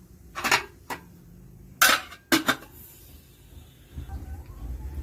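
A metal lid set onto a cooking pot of boiling mung beans with ginger and pandan, a few sharp clanks and rattles spread over a few seconds, then a low simmer underneath.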